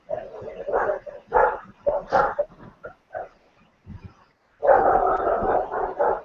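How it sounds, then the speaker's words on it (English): Several dogs bark in irregular, overlapping bursts for a few seconds, then pause briefly before a louder, sustained round of barking and growling close by. "looks like the dogs are calling you guys already"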